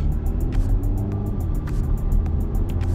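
Audi A5 S line Quattro engine in sport mode, a steady low cabin drone with a rhythmic ticking pattern over it, heard from inside the car.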